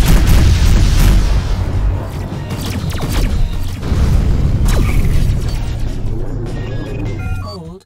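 A missile blast in the space combat game Rebel Galaxy Outlaw booms heavily over a loud, rumbling engine drone, with creaking mechanical sweeps and a second hit midway before the roar fades out.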